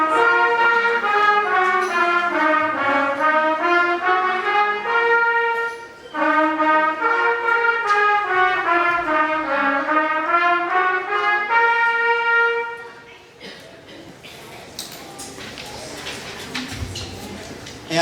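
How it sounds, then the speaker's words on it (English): A middle school trumpet section from a school band concert plays together in harmony, with sustained notes that rise and fall through two phrases. The players then stop, leaving faint room noise and a little audience shuffling. "When the trumpets play together, it sounds like this."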